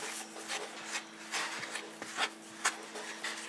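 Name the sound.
mushing butter and flour together on a plate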